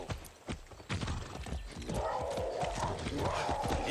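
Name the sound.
horse neighing and hooves in video game Far Cry 6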